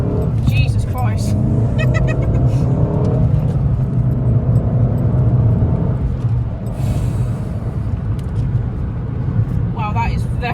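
A remapped Abarth fitted with an upgraded intercooler accelerates on the road, its loud cabin engine rumble steady throughout as people talk over it.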